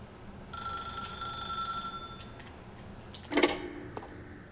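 In The Stanley Parable: Ultra Deluxe, a telephone rings with a bright, rapid metallic bell trill, fairly faint over quiet ambience, followed by a short clunk near the end.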